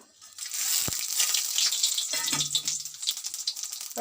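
Whole dried chillies, cumin, cardamom, cinnamon and bay leaf hit hot oil for tempering, giving a steady bright sizzle and crackle with a sharp pop near the start.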